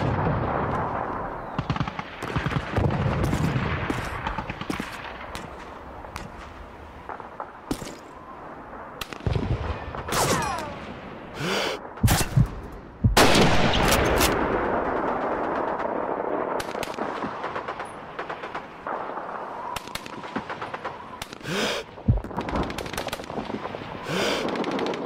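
Heavy battlefield gunfire in Call of Duty 2's World War II Stalingrad mission, with loud rifle cracks and machine-gun bursts over a rumbling din of distant shooting and explosions, several sharp isolated shots standing out near the middle.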